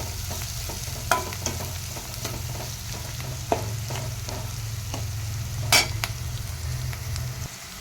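Palak paneer curry base frying in a pan, with steady sizzle and scattered clinks of a spoon stirring against the metal, one louder scrape near the end, close and alone without talk.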